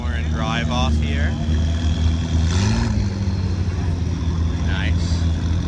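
Car pulling away from a Cars and Coffee meet in Dallas, a steady low engine drone rising briefly as it drives off, with crowd chatter and voices over it throughout.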